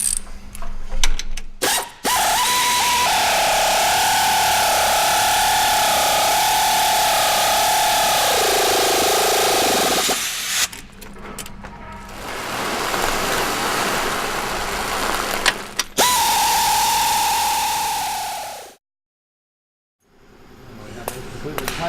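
A power driver tightens the spoke bolts on a 200mm segmented rotor cassette, its loud whirring motor running in long bursts with a mechanical ratcheting edge, separated by brief pauses and ending in a short silence.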